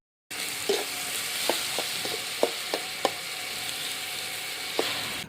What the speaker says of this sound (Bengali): তেল গরম হলে এর ভেতরে পেঁয়াজ কুচি এবং কাঁচামরিচ ফালি দিয়ে দেব